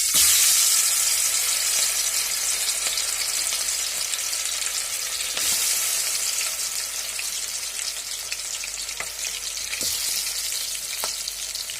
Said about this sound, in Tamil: இப்போது ஒரு பீஸாக போட்டு நல்லா பொரிச்சு எடுத்துக்கலாம்.